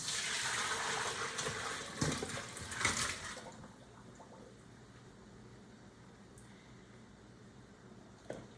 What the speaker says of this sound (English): Strain these potatoes.